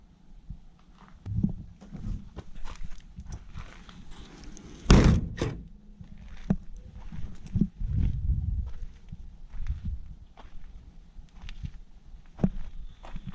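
The tailgate of a Mazda B2200 pickup is worked by hand, and one loud slam rings out midway among softer thuds, clunks and shuffling footsteps.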